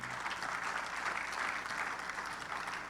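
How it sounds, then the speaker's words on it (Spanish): A church congregation applauding, with a continuous wash of many hands clapping at an even, fairly soft level for the whole stretch and no voices on top. "Denle un aplauso al Señor, por favor."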